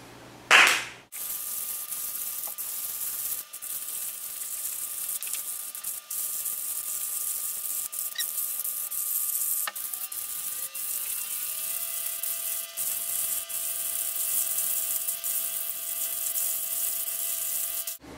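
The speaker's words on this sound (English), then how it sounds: "making coffee. With the hand grinder." Hand coffee grinder crushing coffee beans, sped up: one sharp click, then a continuous close, high grinding whir that carries on evenly to the end, with no voices.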